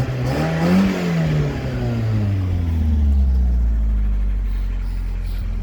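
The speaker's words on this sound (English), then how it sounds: "Give her a little rev." A stationary Volkswagen Golf engine rises in a single rev, then its pitch sinks back and settles into a steady, droning idle, close and loud, with no talking.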